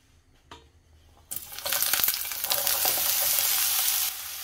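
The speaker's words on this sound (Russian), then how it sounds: "я мелко нарезаю лук и отправляю его в сковородку обжариваться с небольшим количеством масла" Chopped onion drops into a hot pan with a teaspoon of oil and starts sizzling loudly, a steady frying hiss after a few quiet clicks.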